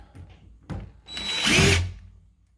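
A power drill backs out the screws of a wall light switch, with a short tap, then a loud rising whir lasting under a second before winding down.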